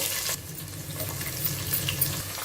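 Onion pieces and whole garam masala frying in ghee in a pan for catering-style pulao, a steady close crackle and sizzle with faint stirring, no talking.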